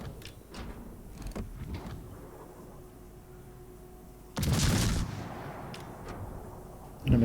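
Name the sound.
naval artillery gunfire in World of Warships video game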